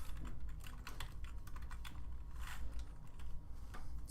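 Fingers type on a computer keyboard at home, a quiet, steady stream of clicking keystrokes with no voices.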